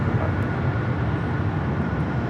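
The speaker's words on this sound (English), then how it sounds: "JetBlue Flight 1224 taking off to JFK on the A321." JetBlue Airbus A321 jet taking off from LAX for JFK, a loud, steady broadband roar of engines at full thrust that holds unbroken throughout, with no voices.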